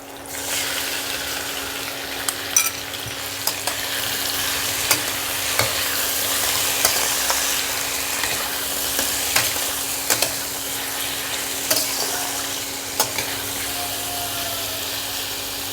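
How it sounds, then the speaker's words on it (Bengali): Bhetki fish sizzles and spits steadily in a hot pan, with occasional clinks and scrapes of a utensil stirring. "ভেটকি মাছ ভাজা ভাজা হয়েছে"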